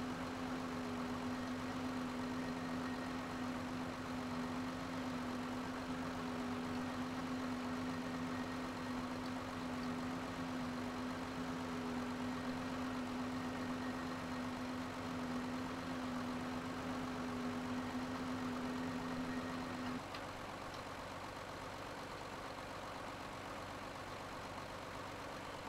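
A tractor engine idles in the video game Farming Simulator 2013, a steady low droning hum that holds for about twenty seconds and then drops away, leaving quieter background noise.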